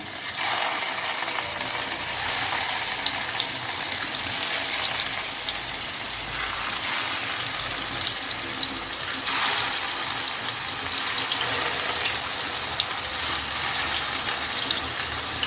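Chicken cheese Turkish kebabs frying in a little hot oil, a steady, even sizzle that holds for the whole stretch with no talking.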